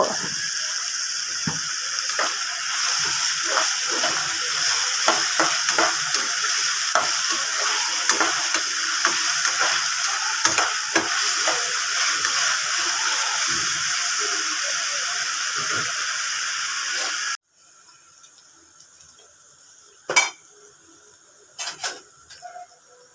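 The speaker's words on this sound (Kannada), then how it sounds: "ಈರುಳ್ಳಿ ಟೊಮೊಟೊ ಎಲ್ಲ ಚೆನ್ನಾಗಿ ಎಣ್ಣೆ ಬಿಡೋವರೆಗೂ ಫ್ರೈ ಆಗಿದೆ" Onion and tomato with salt frying in oil in a pan give a steady close sizzle with scattered stirring scrapes for most of the stretch, then it cuts to near quiet with a few sharp knocks.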